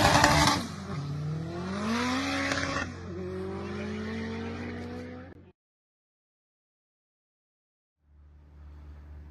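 An all-wheel drive Honda CRX race car drives past loud and close, its engine rising and falling in pitch through gear changes before cutting off, followed by silence and then a low rumble returning.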